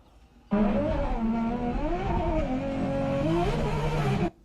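A 1239 bhp Toyota Supra roars loudly and up close as the clutch is kicked, the engine note wavering and climbing while the rear wheels spin, holding for several seconds before cutting off abruptly.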